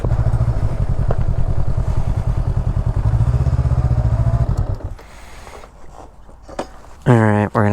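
A motorcycle idles close by inside a motorcycle shop, its engine a steady, rapid, loud thumping pulse for about five seconds before it stops, leaving quieter room noise and brief voices.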